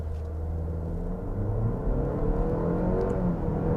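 A 2023 Cadillac XT4 compact luxury SUV with a 9-speed automatic launches hard from brake torque, its engine a steady, close, loud roar that builds without letup, with no one talking.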